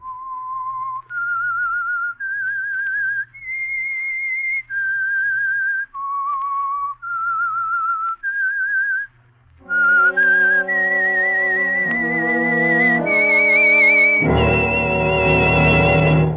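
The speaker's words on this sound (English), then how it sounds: "That whistle is your signal for the Signal Oil Program" The whistled theme of the radio drama The Whistler: single sustained notes stepping up and down, followed by a fuller orchestral passage swelling louder beneath a final high whistled line.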